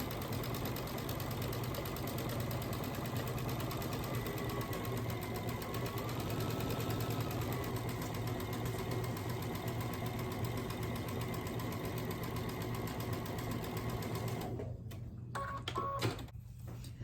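Sewing machine stitching quilt blocks, running in a steady continuous hum and rattle close by for most of the stretch, then stopping and starting in a few short bursts at the end.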